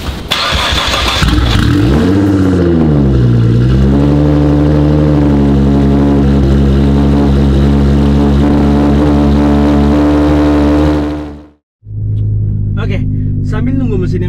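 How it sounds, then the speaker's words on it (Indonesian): A Nissan GT-R R35 engine cranks and fires into a loud, close roar that flares and then settles into a deep, steady warm-up idle. It cuts off briefly near the end before rumbling again. "sekarang yuk kita nyalain dulu mesinnya, kita panasin dulu sebelum kita keliling BSD"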